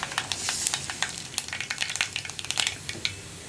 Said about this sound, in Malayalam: നമുക്കിതിലേക്ക് ആദ്യം കടുക് ചേർക്കാം